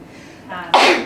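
A single close sneeze, a short breathy intake followed by a sharp burst, heard alone in a quiet room.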